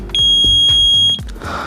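A fire alarm in an office gives a loud, piercing electronic tone lasting about a second, with a low rhythmic thumping pulse beneath and no voices.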